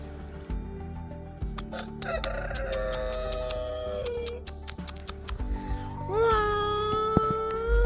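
A rooster crows loudly over clucking chickens, with sharp clicking ticks scattered throughout and a strong, drawn-out crow rising near the end.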